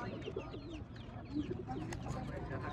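Soft, distant pigeons cooing at a large pigeon market among other faint bird chatter, with murmuring voices in the background.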